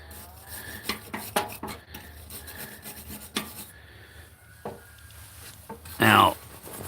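Someone brushes around a weld, making quick rhythmic scraping strokes in short bursts that pause and resume, with a louder scrape near the end.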